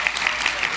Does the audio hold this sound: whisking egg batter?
no